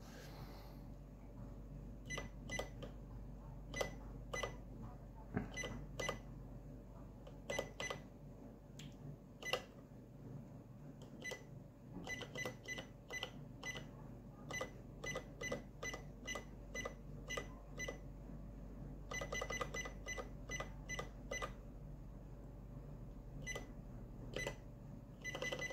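A DP150 or DP25 fiscal cash register has an item keyed in, with a rapid series of short sharp key beeps in irregular bursts over a low steady electronic hum, close and clear.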